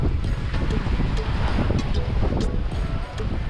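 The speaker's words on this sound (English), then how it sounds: "Got about 17, 18 knots of wind." Strong wind of about 17 to 18 knots roars over a sailing boat running downwind at sea with poles out, a constant loud rush and buffeting against the microphone, with faint water wash beneath.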